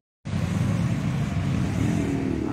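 Road traffic streams around a roundabout in Cali, a dense, steady roar of cars and motorbikes that starts abruptly after a brief silence and stays loud throughout, with no voices.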